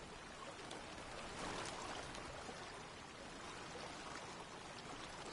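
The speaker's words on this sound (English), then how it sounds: "Now the water's totally flowing." Water flowing in the game Obduction, a steady stream's soft, continuous rush and trickle heard alone at low volume, with a slight swell near the start.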